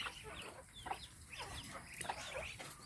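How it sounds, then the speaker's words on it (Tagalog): Farm chickens cluck and call in short repeated bursts, faint and close, with ducks kept alongside them; no one speaks. "kagaling tong mga alaga naming manok sa mga bibi"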